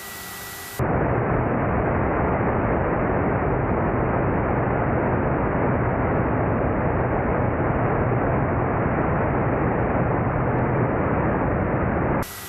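Dornier propeller airplane taking off on the hop from Principe to Sao Tome island: a loud, steady engine and propeller roar starts abruptly after a brief pause and holds unbroken, with no talk.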